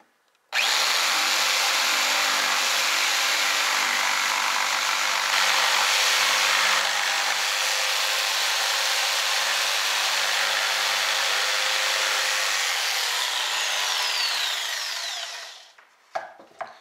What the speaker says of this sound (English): We're going to go ahead and cut this out with the jigsaw